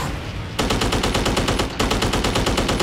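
Machine gun fire in the Dogfight 1942 flight combat game: loud, rapid, evenly spaced shots in two sustained bursts split by a brief pause, with an engine drone heard before the shooting starts.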